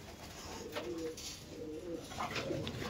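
Pigeons kept for sale in Bengal coo softly in repeated low, rolling calls, several overlapping birds at moderate distance with a faint background hiss.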